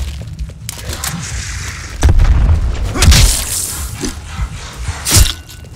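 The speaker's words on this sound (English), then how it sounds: "Grenade out." Grenade explosion in a first-person shooter game: a loud, booming blast with rumbling low end and crackling debris, followed by a few more heavy thuds and bursts amid continuous game noise.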